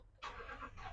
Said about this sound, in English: So I'm going to start the car up